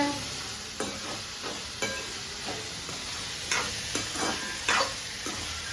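Steady sizzling fills the clip as aubergine, broad beans and potatoes fry in a hot pan with oil, cumin, asafoetida and turmeric, with regular scraping and stirring clicks from a utensil throughout.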